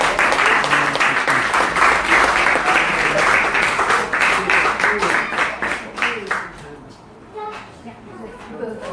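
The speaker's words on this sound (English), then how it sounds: "Give them a round of applause." A lively round of applause from an audience at a Sunday spiritual talk, dense clapping for about six seconds, then tapering off into scattered claps and quiet talking.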